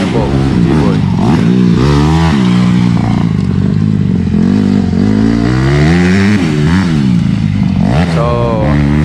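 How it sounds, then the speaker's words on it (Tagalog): Honda CRF150 engine in a modified XRM125 underbone motocross bike revs loudly and continuously, its pitch rising and falling in waves, with voices talking over it. "ang motor niya po is CRF 150. So ang ganda ng tunog."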